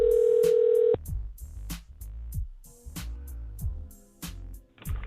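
A Skype call being placed: a steady tone for about a second, then a series of rising and falling melodic ringing chimes that repeat, fairly loud with no talk.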